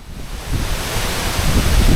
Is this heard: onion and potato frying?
no